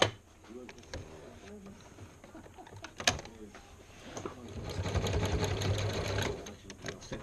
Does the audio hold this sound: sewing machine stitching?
yes